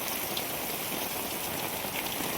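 Heavy rain falls steadily in Karimnagar, a dense, even hiss of drops hitting surfaces that fills the whole stretch without pause.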